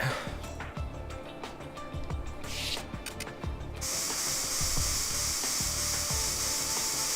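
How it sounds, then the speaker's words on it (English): Luminol being sprayed in the video game Trauma Team: a steady hissing spray that switches on partway through and runs continuously, loud and close, over scattered soft thumps and faint game background sounds. "you're supposed to spray luminol, then apply the light"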